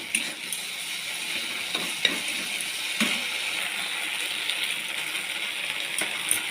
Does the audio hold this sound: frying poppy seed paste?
yes